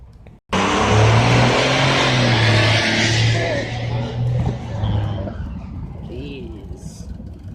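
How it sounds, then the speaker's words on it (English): An older truck's engine roars loudly close by, building up and then fading as it pulls away, with people talking over it. "hear that truck, man. That thing roars."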